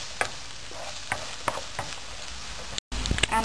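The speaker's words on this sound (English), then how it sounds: "So at first I am going to add this chopped onion. My oil is already heated." Chopped onion goes into hot oil and is stirred, giving a soft sizzle with scattered scraping clicks from the spoon.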